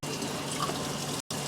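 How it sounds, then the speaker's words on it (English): Kitchen tap water runs steadily into a sink while dishes are washed, a continuous close hiss that cuts out briefly near the end and then resumes. "I guess I'm just washing all these dishes."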